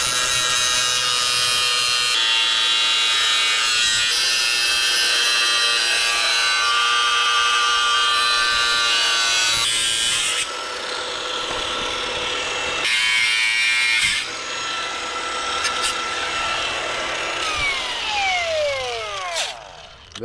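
Metal body panel on a BMW 325i E46 being cut with a power tool, a loud continuous high-pitched grinding whine that shifts in pitch and briefly pauses, running close and alone without talk.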